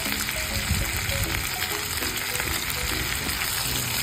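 Chicken adobo, simmered in soy sauce, vinegar, garlic and onion, is stirred in a pan with chicken liver added last. A loud, dense sizzle and bubbling fill the whole stretch, with scattered utensil scrapes and no talking.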